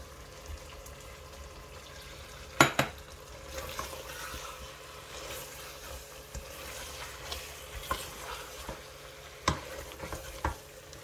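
Green chillies going into chicken frying in a pan, a soft steady sizzle under repeated spatula scrapes and knocks, with several sharper clatters of the utensil against the pan.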